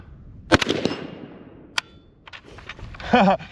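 An FN F2000 rifle firing, sharp close cracks with brief metallic clatter of shell ejection, a few shots spaced irregularly, with a voice briefly audible near the end.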